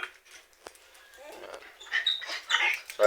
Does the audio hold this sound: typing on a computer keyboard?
no